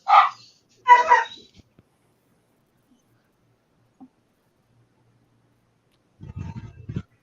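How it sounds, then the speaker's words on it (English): A dog gives two sharp barks indoors, followed by near silence and then a muffled rumble, probably the truck passing outside. "No, that was my dog going after a truck outside."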